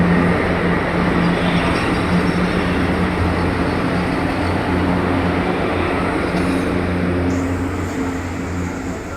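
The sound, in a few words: passing goods train loaded with coal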